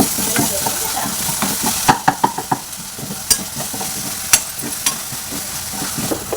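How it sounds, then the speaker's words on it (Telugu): Vegetables, including broad beans with green chillies and salt, frying in a pan with a steady loud sizzle, broken by sharp clacks and scrapes of a spoon stirring against the metal, close up, with no one talking. "మంచిగా ఫ్రై అయిందని, మంచిగా ఉడికింది."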